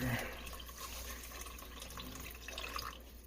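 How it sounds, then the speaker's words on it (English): Beef broth pours into a pot over rouladen as a soft, steady splash and trickle of liquid, heard close but quiet and continuous for a few seconds. "If it doesn't quite cover it, go ahead and add some beef broth to get that completely covered over."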